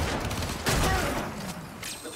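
Grineer enemy gunfire in the video game Warframe on the Plains of Eidolon, a steady rattle of shots with a louder burst midway, mixed with other game sounds.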